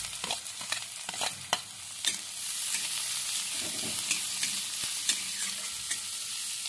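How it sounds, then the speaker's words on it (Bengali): Chopped onions frying in a pan, with a steady close sizzle throughout and repeated scraping and stirring clicks on top, including several sharp utensil taps. "পেঁয়াজটা একটু ভেজে নিচ্ছি।"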